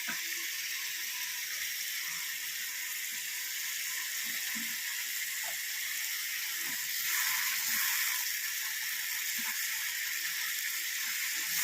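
Mustard seeds frying and spluttering in hot oil while a Malayalam salted-mango buttermilk curry is prepared, a steady bright sizzle with small scattered pops and crackles, fairly close, no talk.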